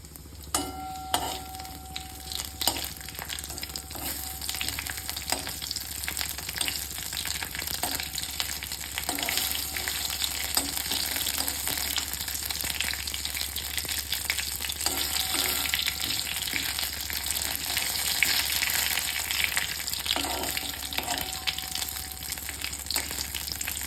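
A bay leaf, a dried chilli broken in two and whole cumin seeds sizzle in hot oil for a tempering poured into shyama rice khichuri, a continuous close crackling hiss with light stirring and no voices.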